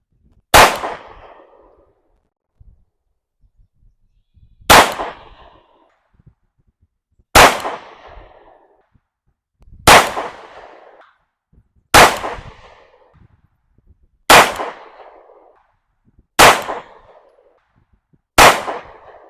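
Eight single gunshots from a PSA Dagger 9mm pistol firing AAC 124 grain ammunition, loud sharp reports spaced about two to three seconds apart, each with a short fading tail, with quiet gaps between.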